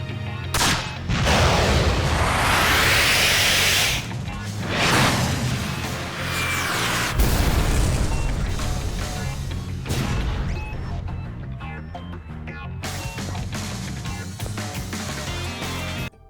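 Chaotic brawl in Yakuza 5 with rockets flying, loud whooshing blasts and explosive crashes layered over constant thuds and hits, dense and noisy throughout with a sharp impact near the middle.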